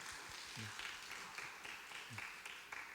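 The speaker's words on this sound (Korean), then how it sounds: "우리 박수로 환영하도록 하겠습니다." Congregation at a Korean church youth worship service clapping to welcome someone forward; continuous, fairly faint applause heard in a room, with a voice speaking over it.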